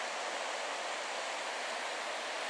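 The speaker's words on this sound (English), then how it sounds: "And here is a better shot of the river." The river in Johnston Canyon, Banff, rushes in a steady broadband roar, a constant even wash of flowing water with no pauses or voices.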